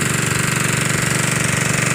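Engine of a bore well drilling machine running in a dry, cracked rice field, a steady close-up chugging drone with a fast, even knocking pulse throughout, loud and continuous with no talk.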